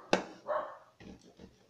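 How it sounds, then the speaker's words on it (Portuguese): A dog barks sharply once, then gives a shorter, muffled yelp and some rough growling sounds. The barking is faint and fairly distant, heard in a quiet indoor space. "que cachorrada latindo na hora dessa"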